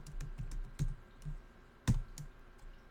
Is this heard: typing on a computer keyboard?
yes